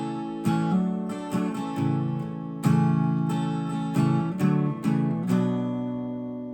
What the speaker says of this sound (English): So that's how you're going to play the interlude.